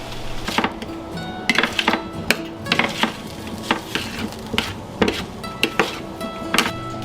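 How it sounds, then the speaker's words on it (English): Radishes and turnips stirred in a pan: repeated scraping and clinking strokes of a utensil in an irregular rhythm over a soft, steady sizzle, close up. "Looks like I probably need to stir around those radishes and turnips."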